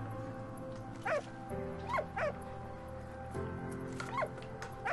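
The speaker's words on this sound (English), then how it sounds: "I can save the dog." A dog in the Valiant Hearts video game lets out several short yips and whimpering barks, spaced irregularly over a low layered game soundscape, with faint background music.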